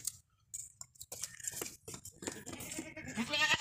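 A goat (a young billy offered for sale as a sacrificial animal) bleats in short bursts amid chewing and rustling sounds, close by, with gaps of quiet and no talk.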